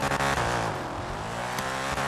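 A car engine revs hard and close with a rising, sweeping pitch, briefly broken by sharp clicks near the start, as the car pulls away fast.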